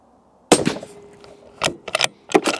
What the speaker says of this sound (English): 100 yards shooting.